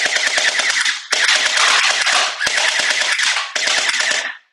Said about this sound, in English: Go ahead and shoot this one. It's a little different style. It does still have the blowback